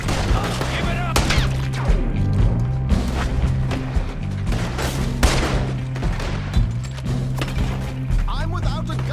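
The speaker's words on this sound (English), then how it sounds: "They're shooting right at me!" Rapid gunfire crackles through a Red Dead Redemption 2 shootout, dense overlapping shots over a steady low music bed and game noise, loud and continuous with voices mixed in.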